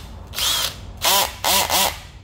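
A Makita DHB482 cordless drill in screwdriving mode whirs in three short bursts, with ratcheting clutch clicks on the later ones, close and loud, with no talk.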